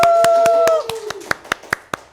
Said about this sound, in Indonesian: Tepuk tangan dong untuk tenaga TBD.